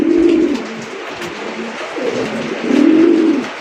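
A fancy racer pigeon coos up close in a series of loud, throaty rolling calls, two long phrases separated by a quieter pause.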